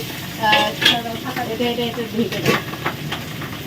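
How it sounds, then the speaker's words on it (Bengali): Sweet potatoes and fish fry in a pan at a home gathering, giving a soft steady sizzle with light stirring and clinks, heard faintly under background chatter. "রাঙা আলু ভাজা চলছে মাছ ভাজা চলছে"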